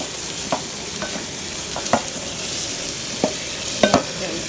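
A mixture sizzles in a hot pan while a spoon stirs it, giving sharp scraping knocks at uneven intervals over a constant, close frying hiss.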